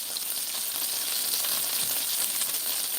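Salisbury steaks sizzle and fry steadily in a pan on a stovetop, a constant bright crackling hiss close up with no talking.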